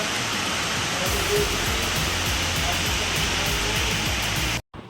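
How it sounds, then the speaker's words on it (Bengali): Rain falls steadily outdoors as a dense, even wash of noise with a faint rhythmic low thumping beneath, continuing for several seconds before stopping suddenly. "এই বৃষ্টি পড়ছে এখন"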